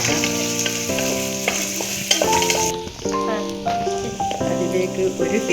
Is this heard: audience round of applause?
no